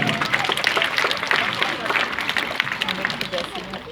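Audience at a live show clapping and cheering, busy irregular claps and crowd noise close by with a presenter's voice and chatter running over the top.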